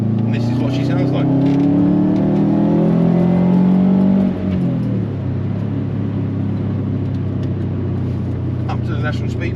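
A 2007 Subaru Forester STI (SG9) pulls hard in third gear around 3,000 revs, its loud engine note climbing steadily before easing to a lower, settled drone, with a voice talking over it.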